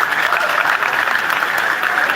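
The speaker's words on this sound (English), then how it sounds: "I think I deserve a round of applause" Steady, dense applause from an audience at an expo event, a continuous wash of many hands clapping at even loudness throughout, with no voices rising above it.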